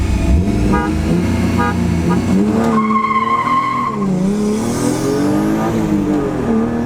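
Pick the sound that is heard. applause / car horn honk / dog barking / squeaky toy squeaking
car horn honk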